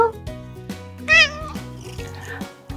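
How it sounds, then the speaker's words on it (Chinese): A cat meows several times in a row, close and clear, with rising and falling tones and a sharper, higher cry near the middle. "小猫， 喵喵喵，"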